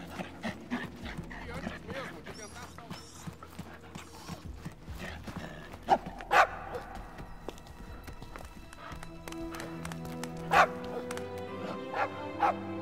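A dog barks in the Guardians of the Galaxy video game played on Xbox Series S, with short, scattered barks amid busy game sounds and footsteps, and people talking throughout.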